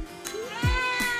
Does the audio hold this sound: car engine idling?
no